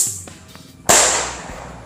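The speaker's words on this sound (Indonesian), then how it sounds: "Selanjutnya kita coba mercon Circle Blitz. Ini merconnya bisa terbang ke atas guys." A Circle Blitz flying firecracker goes off with a single sharp, loud bang after a few faint ticks. A hissing, crackling trail then decays over the next second.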